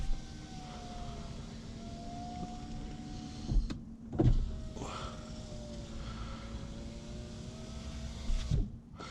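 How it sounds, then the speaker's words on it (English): Car power window unsealing with a sticking sound, then its electric motor whirring steadily as the glass moves, punctuated by a few clunks and thumps, close up with no talking. "So that sticking noise I'm going to show you, that is the window unsealing"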